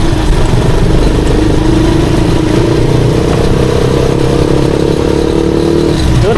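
A motorcycle engine runs steadily and loudly nearby, a smooth even drone with no sputtering for several seconds.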